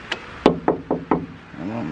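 Knocks on a front door: four sharp, evenly spaced raps close by, preceded by a fainter tap, followed by a brief murmur of voices.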